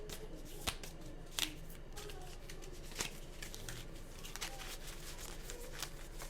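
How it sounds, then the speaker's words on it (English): A fresh deck of new tarot cards is shuffled in a steady, soft sliding patter close by, with a few crisp snaps of cards. "the new cards, they be sliding all over the place"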